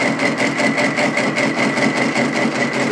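A tube notcher cuts steel tubing slowly at low RPM with coolant applied, giving a loud, steady, close mechanical drone with a faint rhythmic pulsing.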